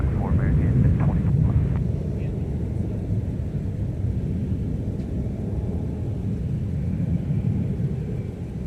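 A Delta airliner takes off at Minneapolis–St. Paul airport, its jet engines a broad, steady roar and rumble that holds throughout, with a brief voice early on.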